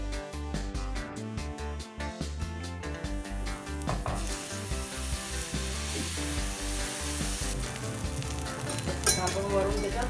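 Rava dosa batter sizzles loudly and steadily on a hot, oiled griddle, with brief scraping and rubbing touches of a utensil partway through and no talking.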